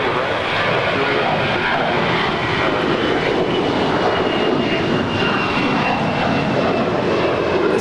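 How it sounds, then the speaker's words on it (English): Loud, sustained roar of a 21-year-old American Airlines Airbus A321 jet departing Los Angeles International Airport, a dense, continuous engine rush filling the whole stretch without break. "This is American Airlines Flight 1674 departing to Charlotte. It's a 21-year-old Airbus A321."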